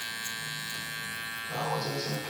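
A Babyliss Gold SnapFX hair clipper with an upgraded motor runs steadily, a constant electric buzz held at moderate level, growing slightly louder and rougher partway through.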